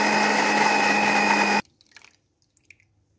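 An electric blender whirs loud and steady on mint, green chillies, coriander, garlic and salt for a chutney, then cuts off abruptly, followed by a few faint clinks and knocks.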